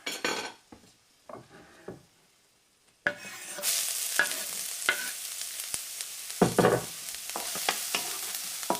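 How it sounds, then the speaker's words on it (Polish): Garlic and ginger dropped into a hot pan with pork for spicy chilli pork loin: after a few quiet utensil taps, a loud sizzle bursts in at three seconds and keeps crackling steadily, with stirring clatter and a sharp scrape near six and a half seconds. "No i teraz wrzucam czosnek i imbir."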